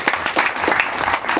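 Audience at an association's second anniversary event applauding, a brief burst of dense, close hand clapping with sharp irregular claps throughout and no talk over it.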